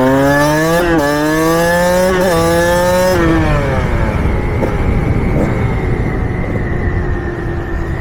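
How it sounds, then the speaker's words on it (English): A two-stroke dirt bike engine revs hard and near, with a high buzzing tone that climbs in several throttle bursts, then drops away to a rough, lower idle-like drone. "I think trying to learn wheelies on a two-stroke was a bad idea."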